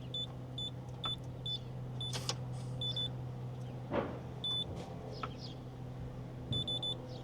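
An electronic door lock keypad gives short beeps in small rapid groups, repeated several times over a low steady hum, with a few faint clicks and taps.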